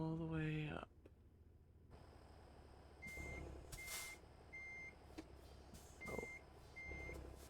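Truck reversing beeps in American Truck Simulator, a series of evenly spaced high electronic beeps over a low engine rumble with air-brake hisses, following a brief spoken exclamation at the start.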